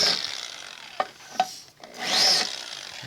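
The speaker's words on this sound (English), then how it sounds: "Anytime I'm deburring." A hand tool deburrs a Harley Sportster Ironhead engine case in short, close scraping and rasping strokes, with a couple of sharp clicks between the strokes.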